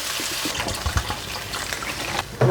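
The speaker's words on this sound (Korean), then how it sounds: "이렇게 노릇노릇하게 볶아졌으면 여기에다가 물을 부어줄게요" Water pours into a cooking pot over browned, stir-fried ingredients, a short steady splashing gush with faint sizzling.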